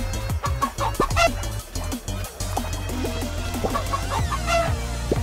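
Cartoon chicken clucks from the Fall Guys video game, several short clucking bursts over busy game music and effects, moderately loud throughout.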